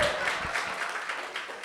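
Audience applause at a live talk event in the Cherry Lane Theatre, a steady dense wash of clapping with faint cheering, fairly close and continuous for a short stretch.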